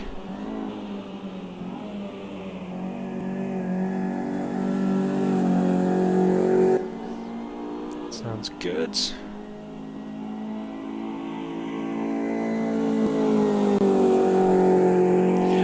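A BMW 2002 Turbo racing car engine in Automobilista 2 drones with harmonic revving and a raspy exhaust, rising and falling, while a voice speaks briefly over it.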